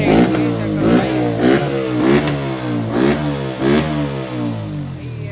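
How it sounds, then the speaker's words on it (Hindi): Yamaha R15 V4 motorcycle fitted with a DB killer in the exhaust, revved repeatedly in short blips, each rising and falling in pitch, close and fairly subdued with mechanical clatter underneath. "एग्जॉस्ट जो लगा है ना भाई खतरनाक, डीवी किलर लगा रखा है भाई, इसलिए इतनी कम आवाज़ आ रही है।"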